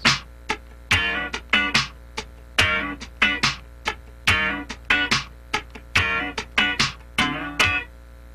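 Syncopated funk rhythm guitar, left hand lifted on the third sixteenth so chords ring briefly between muted scratches, a choppy repeating groove played close with no other sound.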